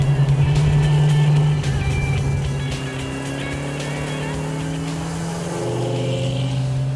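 A 1969 AMC SC/Rambler muscle car drones along from inside the cabin, its V8 exhaust giving a deep, steady, Flowmaster-like rumble with slight pitch shifts as it cruises and eases off, loud and continuous with faint talk underneath.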